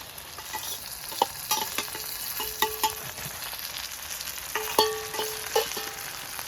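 Minced chicken fries with browned onions in a pan, giving a soft continuous sizzle. Frequent clinks and scrapes of a spatula stirring run through it, close and moderately quiet.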